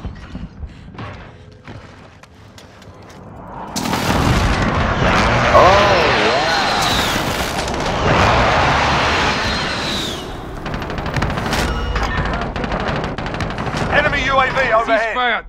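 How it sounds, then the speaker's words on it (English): Call of Duty Modern Warfare battle sounds: heavy explosions from a precision airstrike land amid rattling gunfire and thuds, loud and sustained for long stretches, with clipped game voice callouts heard between the blasts. "Enemy precision airstrike. Take cover."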